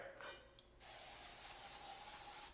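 Faint handling noises, then a sustained hissing burst from an aerosol cooking spray greasing 8-inch non-stick cake pans, close up and fairly loud.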